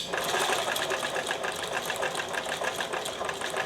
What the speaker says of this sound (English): just stitching with exactly the same settings, we'll see if we lose the stitches still on the left hand side